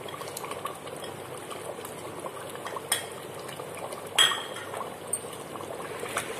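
Roasted gram flour (besan) goes into a pot of nihari, heard as a soft pour and bubbling liquid with a few metal clinks and scrapes from the pot and spoon.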